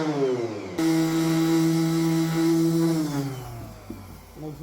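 Electric sander rubbing guide coat off a painted panel: a steady, loud motor drone with a strong harmonic hum that runs alone for about two and a half seconds, then winds down.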